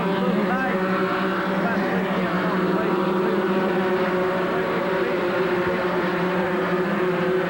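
Late model sportsman race cars roar around the Bristol racetrack during a 1988 race, a dense, steady engine drone that fills the whole stretch loudly and without a break.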